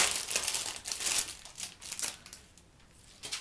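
A plastic packet is crinkled and handled up close in irregular bursts of crackling, busiest in the first two seconds, then thinning to softer rustles with a final crinkle at the end.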